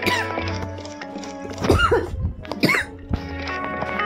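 Coughing from a character in a Roblox Yandere Simulator game comes in two harsh, close bursts in the middle, set over steady tonal game background sounds.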